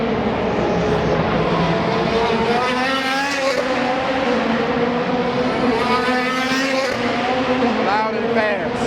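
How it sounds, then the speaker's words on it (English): IndyCar race cars lapping during practice at the Detroit Grand Prix downtown, heard from a parking garage: loud, sustained high-revving engine whine with rising and falling pitch sweeps as cars pass, continuous throughout. "And now it's time for IndyCar practice."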